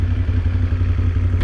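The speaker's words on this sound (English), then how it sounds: "Just the noise of this engine is so beautiful." A Moto Guzzi Stelvio 1200 motorcycle engine running close by, a loud, steady, deep throbbing rumble with little change in pitch over the short stretch.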